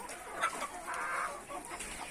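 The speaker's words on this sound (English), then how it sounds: "we continue with our rendezvous with the birds" Chickens at a farm sanctuary cluck and murmur close up, a steady flock chatter with one longer drawn-out call in the middle and no talking.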